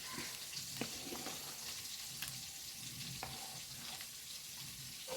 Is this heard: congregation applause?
no